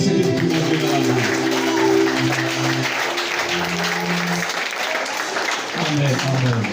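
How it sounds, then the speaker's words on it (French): A church congregation applauding during a worship service, broad steady clapping throughout, with voices and sung tones running underneath. "Applaudissez le petit mon Dieu dans la main."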